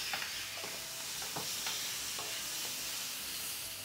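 Leftover Christmas ham cubes sautéing in a pan, a steady close sizzle and hiss with a few scattered stirring clicks and scrapes, no voices.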